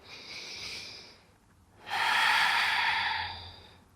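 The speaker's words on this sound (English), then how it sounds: "Breathe in for 4, exhale, 4 to go," Slow, close breathing during a hip-releasing stretch: a soft hissing inhale, a pause, then a longer, louder exhale streaming out steadily before trailing off.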